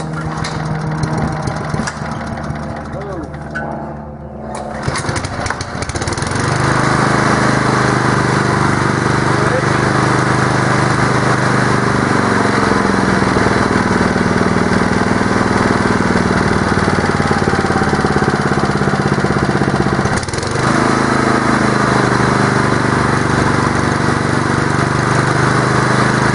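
A Honda lawn mower engine is pulled and fires up with a choppy start, then settles into a loud, steady idle that runs on close and even, with a brief dip near the end and speech heard over parts of it.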